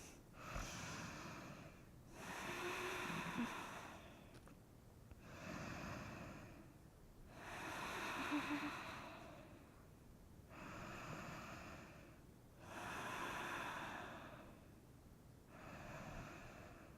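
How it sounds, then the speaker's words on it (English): Slow, deep breathing during a gentle beginner yoga class runs as five or six long, soft airy breaths at an even pace, close and quiet, with no talking. "Now let's take 5 breaths."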